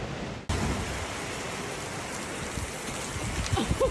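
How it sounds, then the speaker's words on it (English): Steady rain falls on a farm, a dense, even hiss of drops close by that swells in slightly after a brief quieter moment at the start, with no talking over it. "when it's raining and we can't walk."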